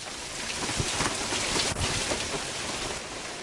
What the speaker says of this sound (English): Pounding rain, strong winds,